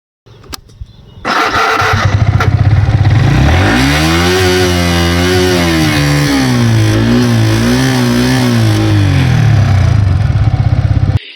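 A Yamaha R15 V3 motorcycle engine starts and idles loudly up close, then is revved hard in rising and falling sweeps toward the high-rpm variable valve actuation range, with no talk over it.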